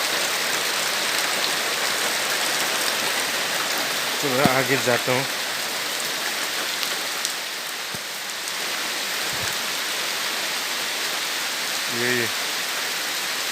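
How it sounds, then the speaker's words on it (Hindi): Heavy rain pours in a steady, loud broadband wash on a rainy day outdoors among grass and jackfruit trees, continuous throughout, with someone speaking briefly and a couple of short voiced sounds rising above the downpour. "कितना बारिश को नीचे हो रहा है"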